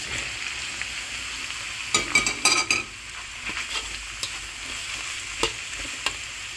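Mushrooms go into a sizzling pasta sauce in a frying pan, with a steady close frying hiss broken by several sharp clinks and scrapes of a utensil stirring against the pan.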